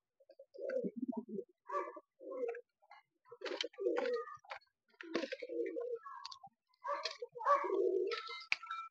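Domestic pigeons kept by a pigeon fancier coo close and clear in repeated throaty calls, several overlapping phrases in an uneven rhythm against a quiet background.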